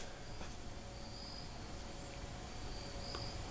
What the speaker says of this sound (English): saying you can hear the crickets is a good thing